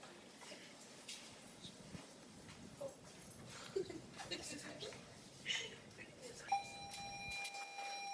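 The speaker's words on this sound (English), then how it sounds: "Sorry about the bell." A doorbell rings in a quiet classroom-style room, a sustained tone near the end after some faint background rustling and soft voices.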